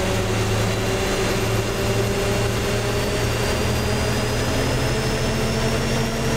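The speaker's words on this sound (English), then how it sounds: "Now the second engine is starting." A jet airliner engine spools up in a ground-operations airport simulation game, a loud steady drone with low humming tones and a thin rising whine, continuous and unbroken with no voices.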